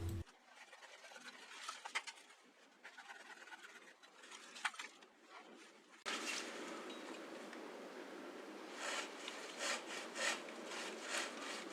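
A hand saw cuts through a kousa dogwood branch during winter pruning. Rhythmic rasping strokes sound close and clear, and birds call faintly in the background.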